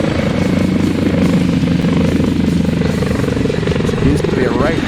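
A Mi-8 helicopter in a solo aerobatic display at an air show sends out a steady, dense rotor and turbine roar throughout, with a commentator talking over it.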